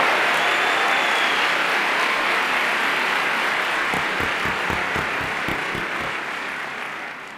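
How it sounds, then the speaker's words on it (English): Dense, steady applause from a conference audience for the pitching companies at a startup competition finals, a continuous wash of clapping that slowly thins and fades toward the end. "Let's give them a round of applause."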